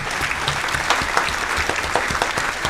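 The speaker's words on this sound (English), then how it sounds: "Give that man a round of applause." Live audience applause at a comedy-style show, a dense, steady burst of many hands clapping close by, loud and sustained throughout with no voice over it.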